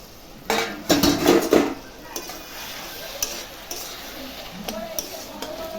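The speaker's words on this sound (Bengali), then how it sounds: "দেখি ঢাকনাটা খুলে চাল কুমড়াটা কতটা সেদ্ধ হলো।" A metal lid comes off a cooking pot of ash gourd with a few loud clanks and rattles near the start, followed by quieter clinks over a soft simmering hiss.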